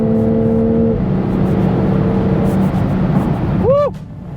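A Toyota GR Supra straight-six engine drones steadily, close and loud, then gives a quick sharp rev blip near the end before the sound drops away.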